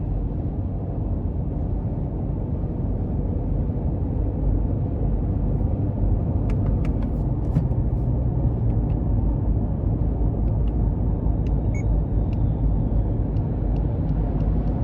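Inside a 2021 Subaru Outback Premium 2.5 under hard acceleration, a steady low rumble of road and engine noise fills the cabin, even and moderately quiet throughout.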